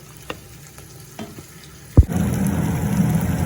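Radish and drumstick vegetables sautéing in a pan for sambar: a few faint clinks and a sharp knock, then a loud, continuous sizzle of frying that holds steady to the end, with no talking.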